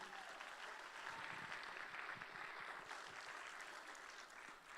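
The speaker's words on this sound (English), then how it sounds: "Can we get a big round of applause for those gifts?" A crowd applauds at a benefit auction for children's aid, a dense continuous wash of clapping that stays fairly faint and distant throughout with no break.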